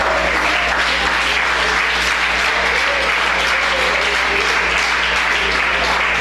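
A congregation applauds loudly and continuously, dense clapping filling the whole stretch without a break.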